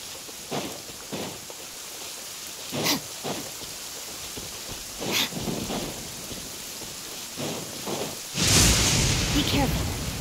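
Steady rain falls in Genshin Impact, a broad hiss with a few distant thunder rumbles, and a sharper crack of thunder swells near the end.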